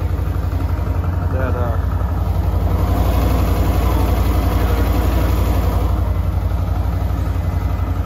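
An ATV engine idles steadily after starting, a loud, close, low rhythmic putter that runs throughout with no talk.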